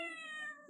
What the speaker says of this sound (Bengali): শব্দে বিড়াল ডাকে